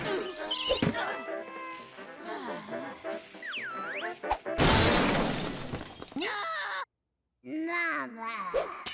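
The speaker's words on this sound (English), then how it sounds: "Antique china in pieces, dresser smashed into wall." Antique china smashes in a Cuphead cartoon, a bright crashing shatter cutting through busy animated music, squawking effects and character voices, followed by a short silence and more cartoon sound.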